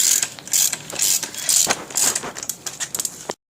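Spring compressor ratcheting on an Abarth coil spring, a quick run of sharp metallic clicks and rattles in uneven bursts, close and fairly loud with no talking.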